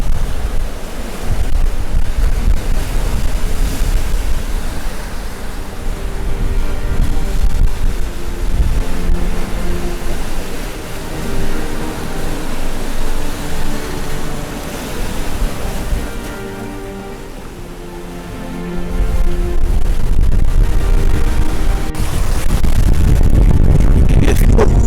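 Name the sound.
waves and wind around a sailing boat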